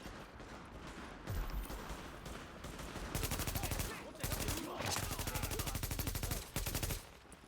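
Repeated bursts of automatic gunfire in The Division, aimed at supplies, come in rapid rattling volleys with brief gaps between them, fairly loud against the game's background audio.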